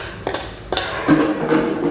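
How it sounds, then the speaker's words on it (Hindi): Metal utensils clink against a pan while vegetables with tomato and green chilli are tempered, a few sharp knocks and scrapes close by, with no talk. "मैं सब्जी छौंक रही हूँ गाइस।"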